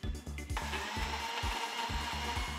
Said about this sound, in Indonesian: Semuanya kemudian dihaluskan dengan blender.